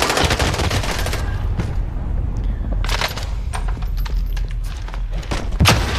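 Loud bursts of automatic machine gun fire in a shooter video game, rapid crackling volleys with a short lull and sharp single shots, close and dense, with no talk over it.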